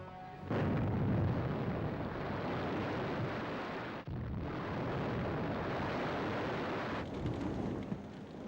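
Wartime demolition blasts destroying factories and fish oil tanks after a harbour raid: a sudden loud roar erupts and rumbles on continuously for about eight seconds, dense and booming, with a brief dip midway.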